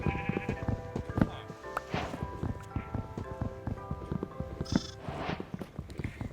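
Sheep bleat repeatedly in a video game amid a flurry of clattering, hoof-like taps, with game-style sound effects layered over the scene.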